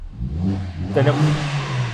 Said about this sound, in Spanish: el sonido más deportivo, más rabioso en este AMG 45